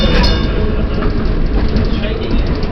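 A railroad car rolls along track laid by volunteers, with a loud, steady rumble and an uneven rattle and clatter throughout, while voices talk faintly under the noise.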